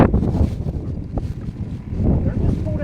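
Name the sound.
strong wind blowing on a lake, on the microphone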